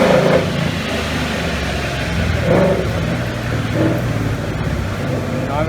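A 2018 Mustang GT 5.0 on E85 or a supercharged 2018 Camaro SS revs on a dyno, a steady loud engine roar with a few swelling pulls, close and constant throughout.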